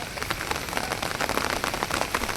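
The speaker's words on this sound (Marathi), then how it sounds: "या पावसाने जोर घेतली एकदम जोरान पाऊस आले" Heavy monsoon-style rain pouring steadily on surfaces outdoors, a dense constant hiss with scattered drop patter throughout.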